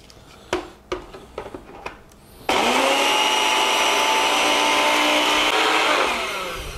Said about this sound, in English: really finely blend. Pretty much you're making your oatmeal into a dust so that it is pretty evenly